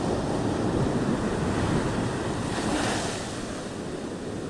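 Ocean waves roll in steadily and break along a sunny West Java beach lined with guesthouses, a loud continuous wash of surf mixed with wind buffeting the microphone, with no voices.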